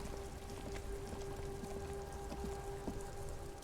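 Steady rain falls in the Disco Elysium video game, a faint continuous patter and hiss with scattered drops and no voices.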